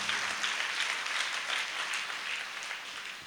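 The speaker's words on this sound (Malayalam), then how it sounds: "നല്ല ഒരു കൈയടിച്ച് കൊടുത്തേ" A church congregation applauds together in steady, dense clapping that fills the whole moment at moderate distance, with no voices over it.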